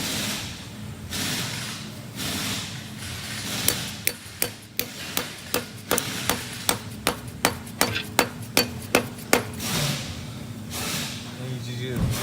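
A bearing spacer is tapped into a W58 manual transmission with a socket and hammer during an SC400 swap: a run of about fifteen sharp, evenly spaced metallic taps, close and clear, with quiet room noise around them.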